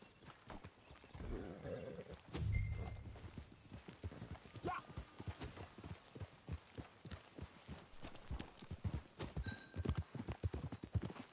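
Hooves clip-clop in a steady walking rhythm in the video game Red Dead Redemption 2, close and distinct, with a brief low snort or rumble early on and no talking.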